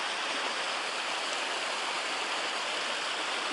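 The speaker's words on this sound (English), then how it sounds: "It's a lovely little waterfall." A small waterfall on a mountain trail near Carson Pass gives a steady, even hiss of rushing water that holds unchanged from start to finish, close and moderately loud, with no voices.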